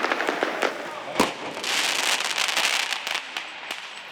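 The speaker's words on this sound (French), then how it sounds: "8 tirs de feu d'artifice qui proviennent du cœur du quartier." Fireworks mortar shots go off in a housing estate, heard from a distance as sharp cracks and pops scattered over a crackling wash of bursts, with a voice speaking intermittently underneath.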